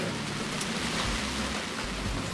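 Rain falling steadily around a sailing flotilla boat sheltering in harbour in the Ionian, a soft even patter and hiss with no talk, moderately faint.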